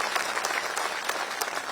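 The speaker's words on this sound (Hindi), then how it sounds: "आप इन शहीदों के नाम पर जोरदार ताली बजा करके आप स्वागत करिए।" Crowd at a political rally at Gandhi Maidan in Patna bursting into loud, sustained applause, a dense clatter of many hands clapping close and continuous throughout.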